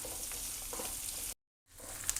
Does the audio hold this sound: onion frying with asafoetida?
yes